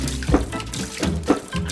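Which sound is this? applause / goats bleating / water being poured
water being poured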